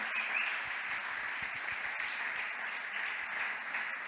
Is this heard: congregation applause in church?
yes